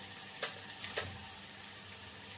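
Mustard seeds and cumin sizzle faintly in hot oil as a steady soft hiss, with a couple of small crackles near the start.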